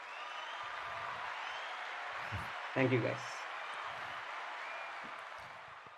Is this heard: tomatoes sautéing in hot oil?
no